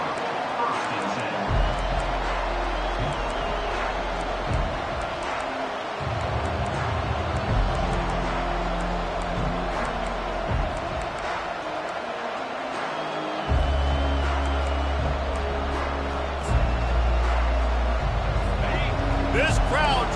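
A packed college football stadium crowd roars steadily in a video game broadcast, a dense sustained wall of noise under an announcer's commentary.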